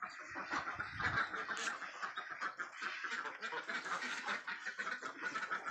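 A flock of Yi Liang ducks raised for eggs and breeding quacks continuously on a duck farm, a dense overlapping chorus of calls at moderate distance with no one talking.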